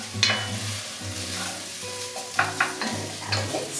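Chunks of potato and celery sizzle and fry in a pot for carrot soup while a spoon stirs them around, scraping and clacking against the metal over a steady close frying hiss.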